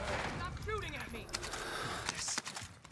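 Gunfire in a shooter video game, DMZ mode with a KAR98K rifle, rattles in sharp bursts beneath continuous overlapping speech from players, with scattered loud cracks toward the end.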